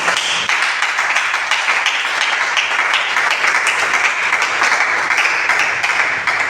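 Dense, sustained applause from a conference audience at an awareness event on including albino women, a steady wash of many hands clapping at close range for several seconds with no voices over it.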